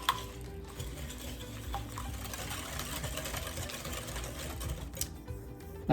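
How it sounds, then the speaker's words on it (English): Wet ingredients with brown sugar are whisked in a bowl for zucchini apple bread, a fast, steady rhythmic whirring and tapping of the whisk against the bowl, fairly quiet and continuous. "let's give this a whisk and get it all blended together"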